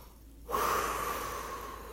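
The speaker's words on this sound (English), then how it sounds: "As we take a deep breath," A single deep breath, starting with a sharp audible inhale followed by a long, steady breathy exhale, close and moderately loud, with no speech.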